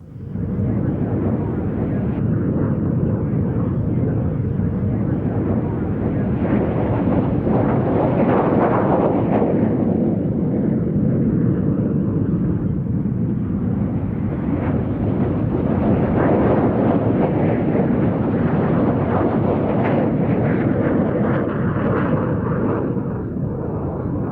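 A Russian-built MiG-15 jet fighter at the 1997 Nellis Golden Air Tattoo air show, staging a mock Korean War dogfight against F-86 Sabres: a loud, sustained jet roar that swells and fades as it passes, with wind buffeting the microphone.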